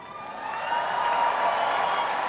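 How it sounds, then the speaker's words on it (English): A crowd at the Westminster Dog Show Hound Group ring cheers and applauds for Afghan Hound number 8, a broad, steady wash of clapping and voices that swells slightly and stays sustained, with a distant, hall-like quality. "And you already hear the cheering for the Afghan Hound."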